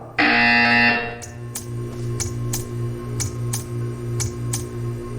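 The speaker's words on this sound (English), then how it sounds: "You will hear a buzzer." A loud buzzer blares for about a second in the Portal 2 video game, followed by a steady series of sharp ticking clicks over a low humming background.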